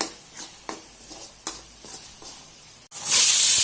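Turmeric and red chilli powder sautéing in a pan for a capsicum and peas gravy, with soft stirring scrapes and light taps before a loud, steady sizzling hiss surges near the end.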